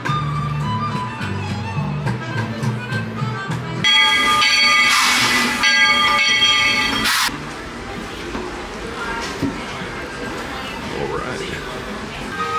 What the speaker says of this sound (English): gonna hop on the train, take a nice little ride to Fantasyland